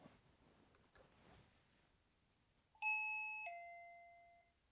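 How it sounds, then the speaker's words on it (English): A two-note electronic chime from a SwitchBot video doorbell rings after a quiet stretch, the first tone bright and the second lower and ringing out slowly. "But if I press the doorbell"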